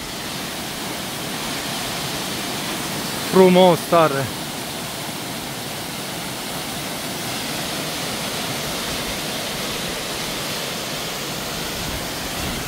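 The Lotrișor waterfall pours through a rock tunnel as a steady, even roar of rushing water throughout, with a few spoken words briefly heard over it early on.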